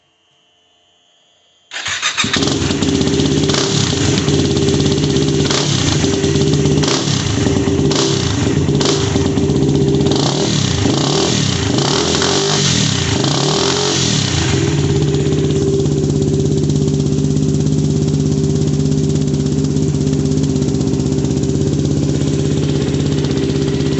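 A Yamaha WR250R motorcycle fitted with a CRF230F muffler, quiet core removed, fires up after a short silence and idles loud and throaty, with a run of revs blipped early before it settles into a steady idle.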